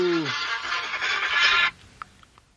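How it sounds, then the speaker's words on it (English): An Oklahoma Sooners phone ringtone plays loudly, a bright tinny melody that begins with a falling tone and runs for about a second and a half before cutting off abruptly, leaving a few faint clicks. "A Sooners ringtone going off."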